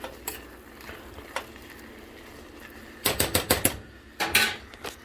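Pea soup being stirred in a pot just taken off the heat, with quiet scraping early on, then bursts of quick clinking and clattering utensil strokes against the pot, close and without any talking.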